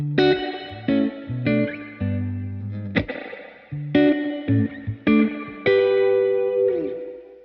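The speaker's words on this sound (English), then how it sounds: "So Spring 65 is based on a spring reverb from a vintage amplifier." Electric guitar played through a UAFX Golden Reverberator pedal on its Spring 65 setting, modeled on a vintage amplifier's spring reverb: loud, alone, with a sequence of picked chords and notes, each trailing off in a wash of reverb.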